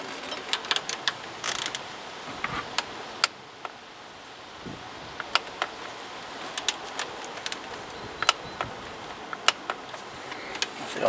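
A wrench tightening bolts to 10 Nm on the water pump of a BMW E36, heard as close, sharp ratchet clicks in irregular bursts against a quiet workshop background.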